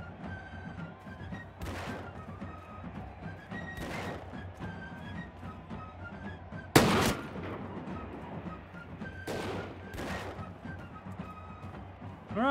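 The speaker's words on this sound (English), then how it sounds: "Oh, that guy's shooting me." Enemy gunfire in Mount & Blade II: Bannerlord set in a 1700s Europe battle: scattered musket-like shots crack out every couple of seconds, one much louder and closer near the middle, over a steady din of combat ambience.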